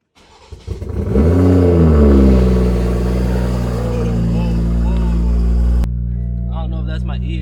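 A car engine turns over briefly, catches and fires up loudly, then settles into a steady close idle that is later joined by a voice.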